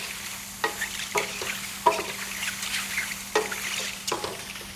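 Vegetables frying and browning in a pan, a continuous sizzle broken by several sharp bursts as they are stirred or tossed.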